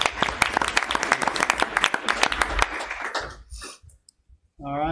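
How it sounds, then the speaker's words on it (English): A small group at a school board meeting gives a short round of applause, with sparse, uneven claps that die away after about three seconds, followed by quiet and then a voice talking. "Give them a round of applause"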